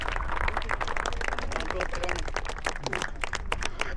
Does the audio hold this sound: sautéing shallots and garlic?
no